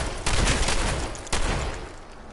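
Shotgun blasts in Fallout 4, two loud, close booming shots about a second apart, each trailing into a rough decay, with no talk over them.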